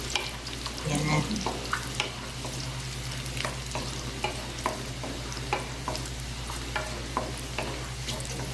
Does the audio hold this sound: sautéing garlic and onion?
yes